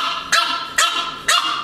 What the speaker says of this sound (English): They never bark at me like that, but they bark at Kai